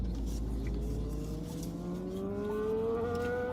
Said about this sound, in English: Motorcycle? Yeah, he's not going fast. He's just noisy.